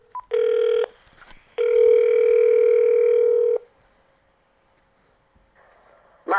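A telephone dial tone sounds after a call is hung up, a loud steady electronic tone in two long stretches with a short gap, then near silence and a brief faint blip at the end.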